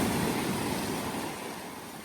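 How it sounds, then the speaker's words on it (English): Strong ocean waves crash against the rocky shore of Madeira, a continuous loud roaring wash of surf that slowly eases over a couple of seconds, with no voices. "The waves are so strong here. Look what they do to the rocks. You can hear it."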